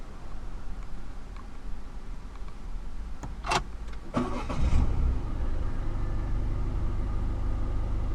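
A 2014 Citroën C4 Picasso with the 1.6 HDi diesel engine starts up: a couple of clicks and a brief starter crank, then the engine catches and settles into a steady, rumbling idle.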